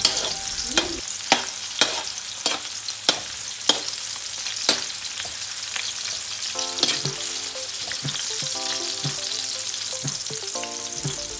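Ginger sautéing in a hot pan for a squid dish, with a steady broadband sizzle punctuated by sharp, regular utensil clacks against the pan, close and fairly loud, with no talking.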